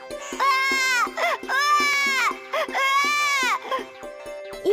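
In a cartoon, babies cry from inside a watermelon: three long, loud wailing cries with brief pauses between them, each rising and falling, over a light rhythmic tapping background.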